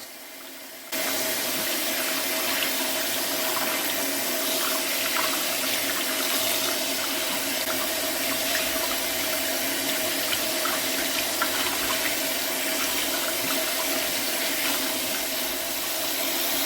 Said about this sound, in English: After washing, you want to be sure to rinse well and dry your hands thoroughly.